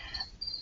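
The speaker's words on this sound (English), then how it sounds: "the crickets are chirping in the background" Crickets chirp steadily in the background, a faint, high, continuous trill with no voices over it.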